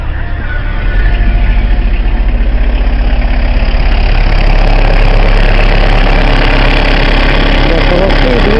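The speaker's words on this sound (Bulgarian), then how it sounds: "На холостых двигатель работает стабильно." A car engine idles steadily and evenly, with stable oil pressure and no misfire or knocking, a loud continuous low drone held close up throughout with no one speaking.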